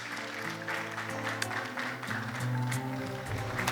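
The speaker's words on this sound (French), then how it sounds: "Je vous prie d'applaudir encore la docteure Esther Deris." Sustained applause from an audience at a university graduation ceremony, a steady wash of clapping lasting the whole moment, with faint tonal sound running underneath.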